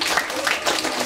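An audience in a concert hall applauds the performers of a Russian folk ensemble's musical-literary program, with a brief, dense burst of close, even clapping.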